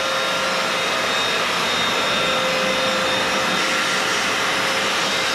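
A wet-dry cleaning machine runs with a steady, loud motor whine and airy suction roar, continuous and close, with a thin tonal hum held throughout and no talk.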